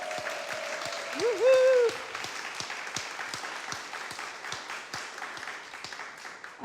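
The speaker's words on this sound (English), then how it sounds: "Let's give them applause." An audience at a community meeting applauds a local team; steady, moderately loud clapping runs throughout with a brief cheer near the start.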